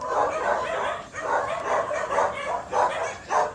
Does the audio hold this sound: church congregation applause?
no